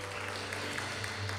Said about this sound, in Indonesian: tepuk tangan buat para pemain musik yang luar biasa